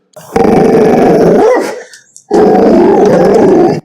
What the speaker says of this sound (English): Sit, Napoleon, sit.